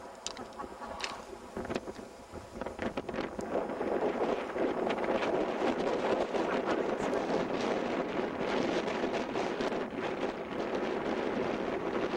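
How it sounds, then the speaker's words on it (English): Strong wind buffets the microphone outdoors on an RV trip, a steady loud roar of rumbling gusts that swells after the first few seconds and persists throughout, with no voices. "But you won't have any voice because there's so much wind."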